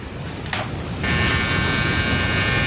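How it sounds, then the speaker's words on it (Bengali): Electric hair clipper cutting a young man's hair, a steady close buzzing hum throughout that grows slightly louder and fuller partway through, with no talk. "যারা নতুন তারা একটু বুঝতে অসুবিধা হবে যে মেশিনটা আমি কীভাবে চালাচ্ছি কোথায় কীভাবে চালাচ্ছি"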